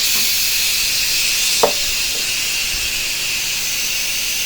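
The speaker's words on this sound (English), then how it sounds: "And that's the pressure being released." A Cosori pressure cooker vents steam in a loud, steady hiss that runs unbroken throughout, with a single small click partway through.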